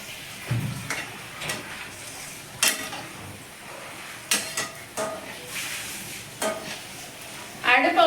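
Urad dal vada mixed with carrot and cabbage frying in hot oil, a soft sizzle broken by short bursts of stirring and utensil clatter nearby, with faint voices in the background.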